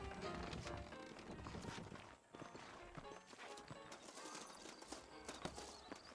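Horses in Red Dead Redemption clip-clop along, their quick hoofbeats close and mixed with game ambience, with a brief lull midway before the hooves resume.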